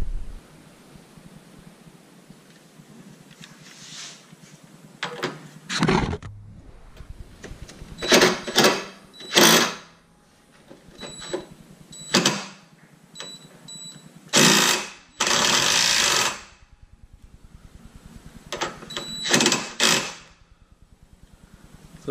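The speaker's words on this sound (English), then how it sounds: "So let's remove the frame bolts." Power tool, likely an impact wrench, working on the frame bolts of an aftermarket rock slider. It comes in several short, loud bursts with pauses between them, and clicks and rustling fill the gaps.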